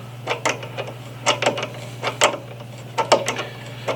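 A brass-ferrule brake line banjo fitting is tightened with a wrench on a Pro Street Honda Shadow 750 motorcycle, giving several short bursts of close, dry ratcheting clicks over a steady low hum.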